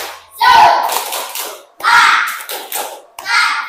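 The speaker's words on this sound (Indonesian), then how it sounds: "sebelum dimulai kita tepuk semangat dulu" A classroom of pupils doing a rhythmic 'tepuk semangat' spirit clap, three bursts of mixed claps and children's voices close by, each lasting about a second with short pauses between.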